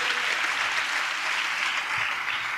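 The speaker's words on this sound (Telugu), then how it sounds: "చప్పట్లు కొడుతూ దేవునికి స్తోత్రాలు చెప్దాం" A worship congregation at a Telugu church service applauding in praise of God, dense continuous clapping from many hands, loud and sustained throughout.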